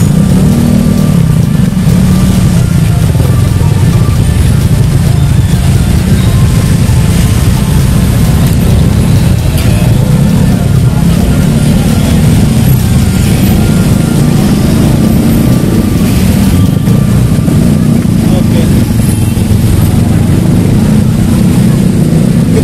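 Dense motorcycle traffic crawling through a jam on the way to a Jakarta anniversary event, a continuous loud engine drone with overlapping buzzing motors close by and no clear pauses.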